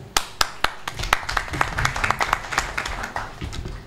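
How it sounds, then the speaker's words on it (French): Audience at a Garba festival event in Conakry claps, starting with a few sharp separate claps that quickly build into denser, steady applause, moderately loud and close. "des applaudissements."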